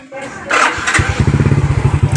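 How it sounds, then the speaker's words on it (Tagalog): A Suzuki Smash 115 motorcycle engine cranks, catches and settles into a steady, evenly pulsing idle close by. "So try natin, pandarin natin ang motor."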